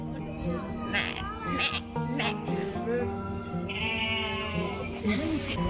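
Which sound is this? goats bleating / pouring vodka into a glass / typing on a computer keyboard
goats bleating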